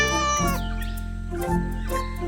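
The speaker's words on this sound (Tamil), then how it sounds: "அதுக்கப்புறம் அவரு ஒரு பூனையை கொண்டு வந்தாரு." A cat meowing in a Tamil children's cartoon: two loud, drawn-out, close meows sound one after another, with a quiet musical tone underneath.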